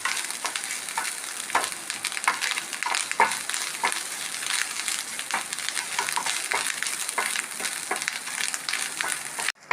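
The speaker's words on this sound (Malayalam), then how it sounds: "അപ്പോൾ നമ്മൾ വെച്ച നാളികേരം നന്നായിട്ട് ഫ്രൈ ആയിട്ടുണ്ട്." Grated coconut frying in a pan for coconut chutney, a steady dense sizzle and crackle that holds close and loud for the whole stretch, with occasional scraping stir strokes and no voices.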